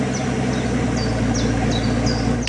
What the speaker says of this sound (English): here you have this wonderful sporty exhaust system which provides wonderful V12 music to your ears